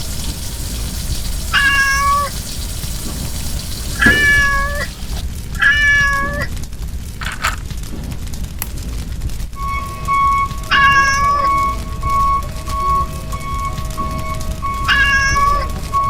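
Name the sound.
kitten meowing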